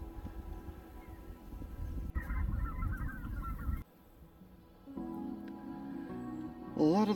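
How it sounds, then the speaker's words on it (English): Geese honk repeatedly in bursts over a marsh, a mix of low and higher calls at moderate distance, with short quieter gaps between groups. "I can hear some geese in the background"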